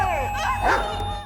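Dogs in a horror film scene, a quick run of yelping barks and whimpers with a musical tone beneath, close and fairly loud over about a second.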